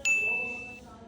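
A single bright electronic doorbell ding rings out and sustains for under a second before fading, with faint room noise behind it.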